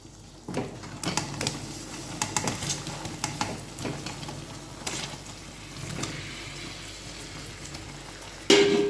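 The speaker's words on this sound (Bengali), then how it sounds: "এখন আমি জলপিটা ঢেলে দিচ্ছি" Olives tipped into a pan of mustard oil and spices for pickle, a clattering tumble of pieces with a soft sizzle and scraping stirs, close up, ending in a sharp louder knock.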